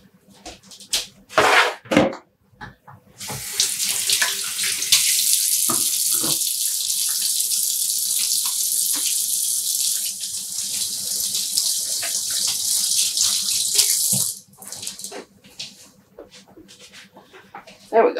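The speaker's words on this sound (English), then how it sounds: "I'm going to wash my hands real quick." A kitchen tap runs steadily at full flow for about ten seconds during hand washing, with a voice speaking briefly before and after and a dog whimpering faintly.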